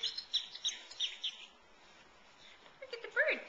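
A small bird chirps in a bright indoor scene, short high tweets repeating quickly at the start and again near the end, faint and close, with quiet background between.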